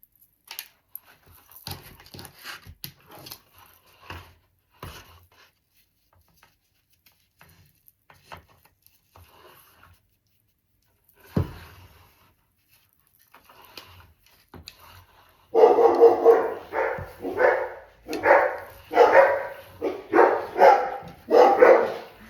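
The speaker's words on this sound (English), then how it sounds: "it's probably a dog" A dog barks in a rapid run of loud, close barks near the end, after a stretch of faint rustling and handling noises in a room where a deco mesh wreath is being made.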